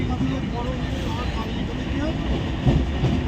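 A passenger train rolls toward Bardhaman with a continuous low rumble and a faint rhythmic rattle of the carriage. Voices and general-coach noise run underneath throughout.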